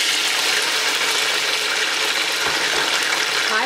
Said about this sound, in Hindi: हाई फ्लेम पर आपने इसको अच्छी तरह यहाँ पर 5 से 7 मिनट के लिए फ्राई करना है